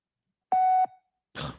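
A single voicemail beep on a phone call, one steady loud tone lasting about a third of a second, followed by a short pause and a brief burst of a voice.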